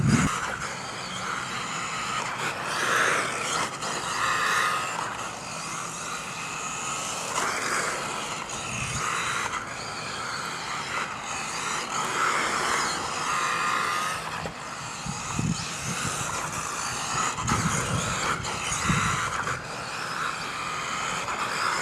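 A small electric RC rally car drives with increased steering angle, its motor whining and rising and falling in pitch continuously as it accelerates and turns, close-up with no talking.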